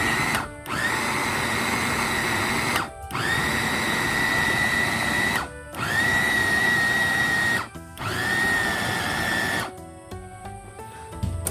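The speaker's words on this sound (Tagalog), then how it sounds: "Tsaka natin gigilingin ngayon sa ating food processor." A food processor grinds taro for ginataang gabi in four loud, steady whirring bursts separated by brief pauses, followed by a short quieter stretch at the end.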